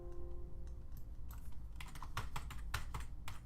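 Steady typing on a cheap computer keyboard at a home desk, rapid clustered keystrokes at close range over a low room hum, no talking.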